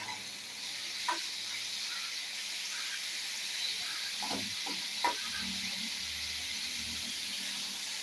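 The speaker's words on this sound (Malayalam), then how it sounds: "നന്നായിട്ടൊന്ന് ഇളക്കി കൊടുക്കുക മുട്ടക്കോസും ഉള്ളിയും" Cabbage and onion fry in a pan with a steady hiss and sizzle, broken by a few soft scraping stirs partway through; the sound is quiet to moderate and there is no talking.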